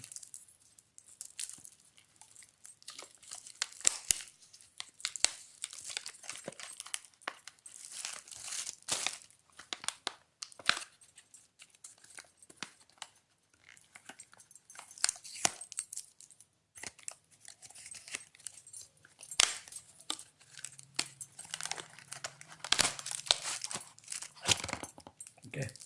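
Tightly packed plastic wrapping on an Ambrane power bank is pulled open and torn, giving repeated close crinkling and crackling rustles throughout, with a low hum near the end.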